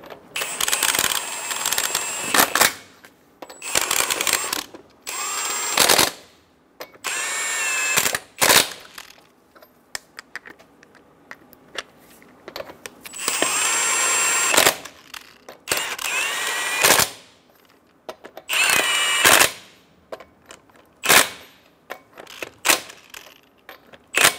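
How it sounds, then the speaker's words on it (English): A power tool spins lug nuts down on the wheel of a Chevrolet Silverado 1500 pickup in repeated loud ratcheting bursts, roughly a dozen over the span, separated by silent gaps. "install the wheel, get the lug nuts started, snug the lug nuts down"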